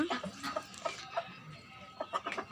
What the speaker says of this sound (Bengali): উমের মুরগিগুলা